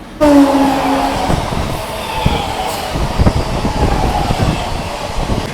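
A Howrah to Kharagpur local train on the South Eastern Railway, loud close rumble and rattle of moving carriages from inside, with a brief whine at the start and rhythmic clatter throughout.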